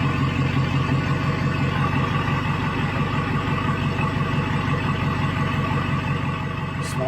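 A small block V8 on a rollback tow truck runs with no exhaust and no air cleaner, a loud, steady, close rumble that holds unbroken throughout with no talking over it.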